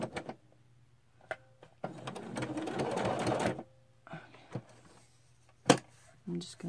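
A sewing machine stitches in one steady, close burst of a couple of seconds, with the bobbin thread running, set between quiet pauses and a few light handling clicks.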